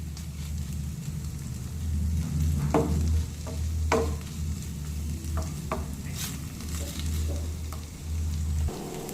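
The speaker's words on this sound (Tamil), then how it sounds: "இப்போ உருளைக்கிழங்கு பார்த்தீங்கன்னா எண்ணெயிலே நல்லா வெந்து வரட்டும். நல்லா கிளறி விட்டுக்கலாம்." Potatoes frying in oil being stirred, with a steady low sizzle and several distinct scraping clicks of a spoon against the pan at irregular intervals, close by.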